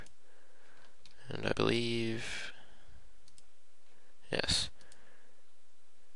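Computer mouse clicks: a short burst of clicks early on and another single click a few seconds later, heard close and crisp, with a voice talking between them.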